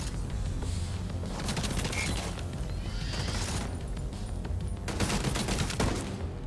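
Rapid automatic turret gunfire in The Division 2 crackles in dense bursts, steady and loud throughout with a heavier flurry near the end, mixed with game ambience.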